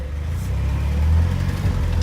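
An International Scout 80 engine drones low and steady while the vehicle is driven and shifted into second gear, the rumble swelling slightly partway through.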